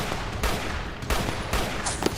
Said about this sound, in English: Yeah, that's an AK.